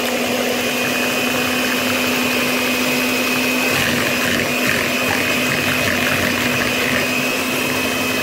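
An electric mixer whips eggs with sugar and vanilla sugar at high speed, a steady, loud, continuous whir with a constant hum that runs unbroken throughout, no voices over it.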